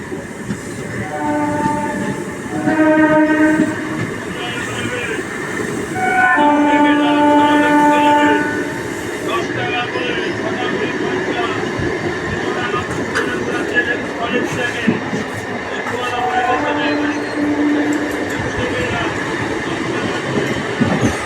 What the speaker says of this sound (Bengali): আমাদের এখন ট্রেন জগদ্দল স্টেশন স্কিপ করছে